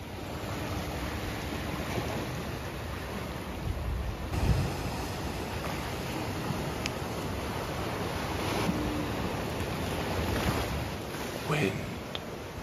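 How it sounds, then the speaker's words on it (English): Wind blows outdoors as a steady, broad rushing roar that buffets the microphone. It stays fairly constant for the whole stretch, with occasional gusty swells and faint knocks mixed in. "Wind."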